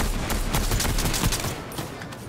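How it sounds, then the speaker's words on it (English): Continuous rapid gunfire from the video game Fortnite, a dense fusillade of overlapping shots filling the whole stretch and thinning slightly near the end, with no talk over it. "Oh, who's shooting?"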